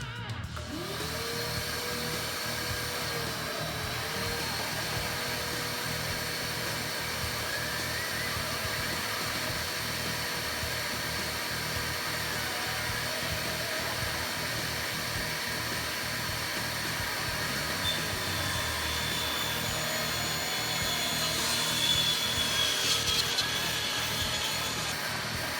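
A power saw cuts through strips of cherry, maple and walnut wood, its steady whine running continuously and fairly loud for the whole stretch, with a slight rise near the end.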